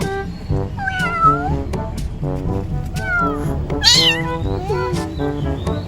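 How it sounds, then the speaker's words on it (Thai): A small stray kitten meows repeatedly in high, plaintive cries, close and loud, over steady background noise. "นี่ ลูกแมวหลงทาง"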